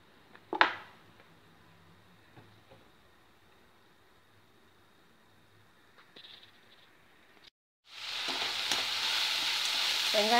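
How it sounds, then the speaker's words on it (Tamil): Onions dropped into hot oil for millet kuzhi paniyaram burst into a loud, steady sizzle near the end, after a quiet stretch with light clinks and a brief pause. "வெங்காயம் போட்டு ஒரு பரட்டு பரட்டுனா போதும்."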